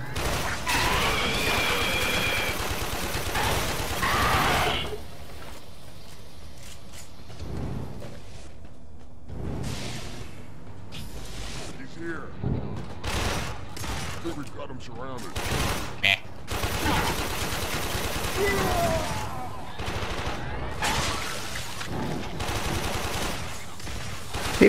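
Gunfire in the sci-fi shooter Warframe: repeated rapid bursts and volleys come and go in loud clusters, mixed with voices talking over the action.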